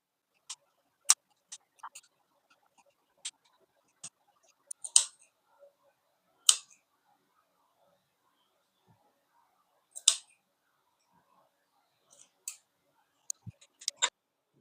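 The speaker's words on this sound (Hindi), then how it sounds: "अभी हम इससे इसमें कट लगा देंगे छोटे छोटे।" Scissors snipping small cuts into stitched suit fabric, sparse crisp clicks scattered irregularly, close and quiet against near silence.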